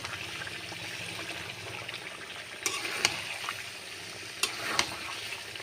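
Meat browning in oil in a pan makes a low, steady sizzle with a few sharp scrapes or clinks in the second half, fairly quiet and close.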